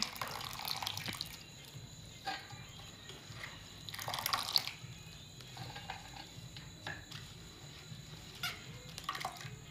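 Chopped banana flower is rinsed by hand in a bowl of darkened, turmeric-tinted water, with soft sloshing, splashes and drips close by, uneven and fairly quiet.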